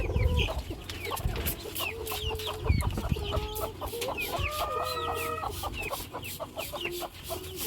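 Hens cluck steadily inside a poultry coop, with overlapping clucks and short calls from several birds close by, continuous throughout with some rustling underneath.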